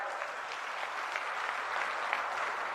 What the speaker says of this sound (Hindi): जोरदार तालियों के साथ भाइयों।